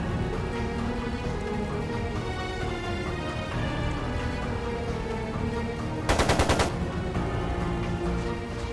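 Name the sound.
machine gun fire in video game Trails of Cold Steel II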